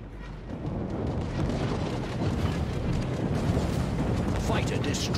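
A fighter aircraft blown up in a combat video game, heard as a big sustained explosion roar that rumbles and crackles continuously for several seconds, loud and close.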